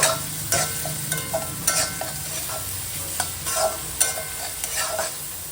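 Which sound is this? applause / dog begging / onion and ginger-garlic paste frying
onion and ginger-garlic paste frying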